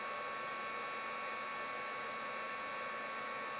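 A heat embossing tool blows hot air over embossing powder on card, a constant steady whir of fan noise with a faint tonal hum, unbroken and fairly quiet, with no voices.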